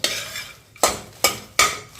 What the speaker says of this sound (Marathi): आणि मखाना भाजून घ्या.